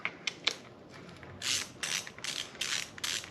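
Ratchet clicking as it loosens an 8mm bolt on dirt bike handlebars, a few sharp clicks followed by a quick series of close, rasping ratchet strokes, fairly quiet.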